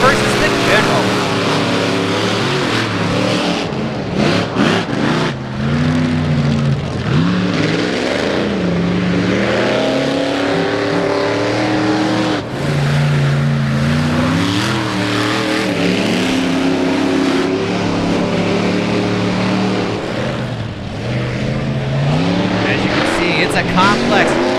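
Monster trucks Raminator and the General race round one on a twisting track at the Indiana State Fairgrounds, engines roaring and revving continuously and loud while a commentator talks over them throughout.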